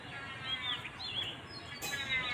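Birds chirp and call on a house rooftop where pigeons gather, a cluster of bright, fairly close twittering notes over soft outdoor background noise, with no talk.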